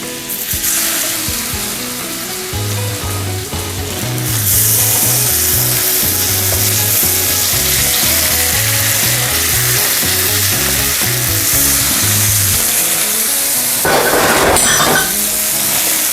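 Tofu fries for teriyaki in a pan with a loud, continuous sizzle and crackle that swells after a few seconds, with a rhythmic background melody playing underneath.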